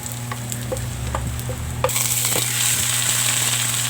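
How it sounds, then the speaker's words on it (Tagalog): Aromatics browning in oil for chicken tinola: loud continuous sizzle that swells midway, with light stirring clicks and scrapes, no voices. "ipabrown natin yung ating mga lamas mix together lang natin yung ating mga panakot"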